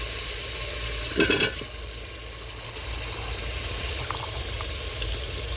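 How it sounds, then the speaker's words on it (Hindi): Potatoes and peas drop into frying masala with a short burst of clatter and sizzle, followed by a steady frying hiss and low background hum. "मसाला हमारा अच्छी तरीके से भून चुका है। अब हम इसमें डाल देंगे आलू और मटर।"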